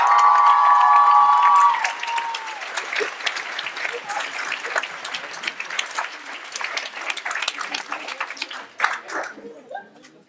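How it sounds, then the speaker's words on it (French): Applause and cheering from an audience at a dance show, a loud burst of clapping with shouts and whoops that thins into scattered claps, a voice audible at the start. "On l'applaudit bien fort, Léa"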